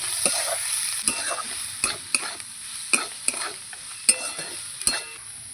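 Ground cumin, ginger and garlic paste frying in a pan, a steady sizzle broken by repeated sharp scrapes and taps of a spatula stirring, close and fairly loud.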